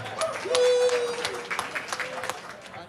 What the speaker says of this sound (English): How about a nice another round of applause for Sharen and Paul?